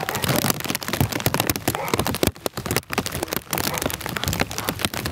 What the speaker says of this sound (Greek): βρέχει τώρα, βρέχει δυνατά